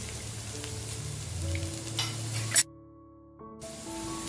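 Potato cubes fry in hot oil in a home kitchen pan, a steady sizzle with stirring scrapes, broken by a brief silent gap before the frying noise resumes.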